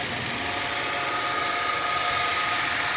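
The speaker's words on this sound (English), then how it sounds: "the engine runs fine" A repaired Nissan Altima engine runs steadily at idle, a continuous broadband hum with a low rumble and faint mechanical ticking, close and even throughout with no talking.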